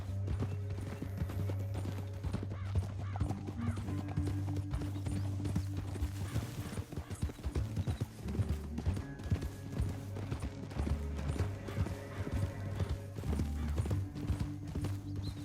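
Horse hooves clip-clop at a steady gallop in Red Dead Redemption 2, continuous and close throughout, over a low droning musical score with an occasional whinny.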